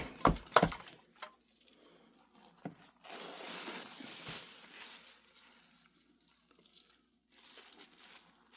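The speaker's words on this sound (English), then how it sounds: "I'm going to add some more water so they will be happy." Water is poured into a worm bin from close by, first as a few sharp splashes, then a soft, trickling pour for several seconds, with faint handling noises around it.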